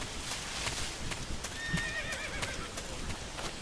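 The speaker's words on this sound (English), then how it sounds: "I heard a horse." A horse in Metal Gear Solid 3 lets out a fairly quiet, drawn-out whinny midway through, set against a dense, noisy game ambience with a faint clip-clop.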